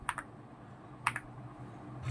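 Keys are pressed on an Aula S98 Pro keyboard fitted with MOA keycaps, giving a few quiet, crisp clicks that come in quick pairs with a pause between them.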